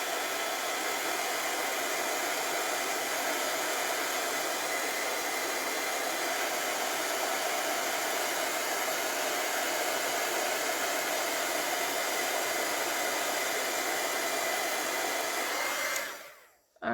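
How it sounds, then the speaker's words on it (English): A heat tool blows steadily to melt embossing powder on a card, a loud, continuous hot-air whoosh that runs unbroken for many seconds before cutting off abruptly at the end. "I'm going to turn on the heat tool."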